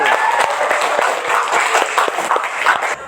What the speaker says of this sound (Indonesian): tepuk tangan untuk Bakti